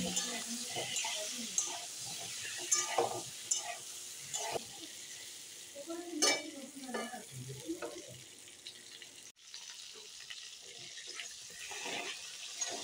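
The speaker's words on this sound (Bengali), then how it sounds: "দিয়ে ভালো করে ভেজে নিচ্ছি উল্টে পাল্টে।" Pointed gourd pieces coated in turmeric fry in oil and are turned over, a close crackling sizzle with stirring knocks, quieter after a brief cut; a voice speaks faintly at times.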